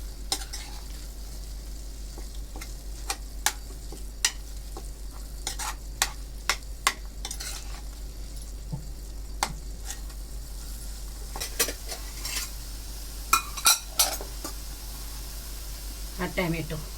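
Ground spices, black pepper, cloves and Kashmiri chili powder stirred in a pan for chole, with a faint sizzle and sharp intermittent spoon scrapes and taps against the metal, a quiet steady hiss underneath.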